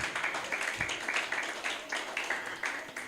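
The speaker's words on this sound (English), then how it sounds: "Another round of applause, please." Audience applause at an African music business showcase after an unplugged guitar session, a steady dense patter of many hands clapping at moderate distance, filling the moment with no talking over it.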